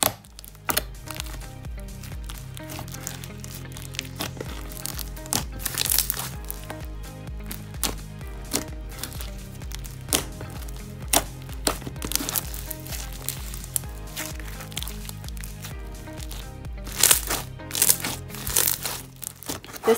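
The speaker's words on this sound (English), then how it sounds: "This slime is really fun to squish, and it makes really nice popping noises" Slime full of cubes being squished by hand, giving crunchy, crackling pops and wet squelches in an irregular close-up rhythm, with occasional louder snaps.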